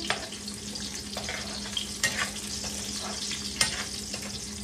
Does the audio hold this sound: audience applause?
no